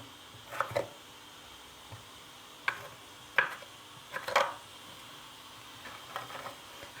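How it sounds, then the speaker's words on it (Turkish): A knife cutting potatoes into cubes on a cutting board: a few separate knocks and short bursts of chops at irregular spacing, close but fairly quiet against a low background, with no talking. "Patatesi de şöyle küp küp doğrayacağım."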